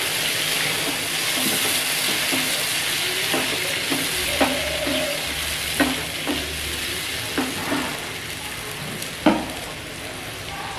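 Poppy seed paste with green chili fries in a pan under a steady sizzle, while a spatula stirs and scrapes in regular taps and strokes close by.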